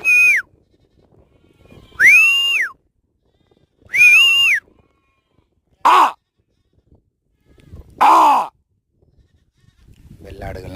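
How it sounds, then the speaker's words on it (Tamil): Goats and sheep bleat one at a time, five loud, close calls spaced about two seconds apart, with quiet gaps between and some faint rustling. "வெள்ளாடுகள்லாம் இப்படி வரிசையாக மேயுது"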